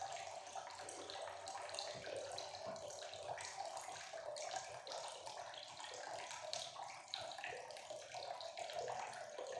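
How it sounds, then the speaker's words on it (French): A pump fills a water tank in a microcontroller level-control setup, giving a steady, continuous rush and splash of flowing water with no pauses. "Immédiatement, la pompe s'allume plus fortement. On voit bien le niveau de l'eau qui augmente."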